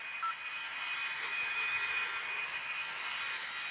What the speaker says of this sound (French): Ok, il fait demi-tour l'avion